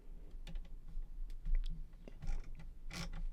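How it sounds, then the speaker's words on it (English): A screwdriver works tri-wing screws out of a 1978 Mattel Battlestar Galactica electronic game, giving close, faint clicks, scrapes and small creaks in an irregular run. "the first thing I'm going to try to do anyway is get these screws out. They are tri-wing screws."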